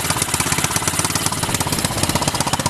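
A 150cc GY6 engine in a mini monster truck idles after being soaked on an offroad trail, its loud, close, steady chugging thumping in a fast regular rhythm with no voices.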